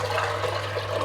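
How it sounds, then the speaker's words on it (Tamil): Water pours steadily into a steaming pot set up for cooking kozhukattai dumplings, a continuous close, even splashing rush with no other sounds. "பாத்திரத்துக்குள்ள தண்ணி ஊற்றுறேன்"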